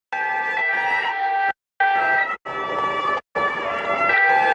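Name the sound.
ambulance siren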